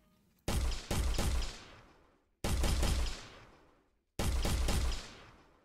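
Weapon fire from an Unreal Engine shooter game: three loud, booming gunshot bursts, each a sharp crack that rolls off into a long decaying tail, spaced about two seconds apart with no talking.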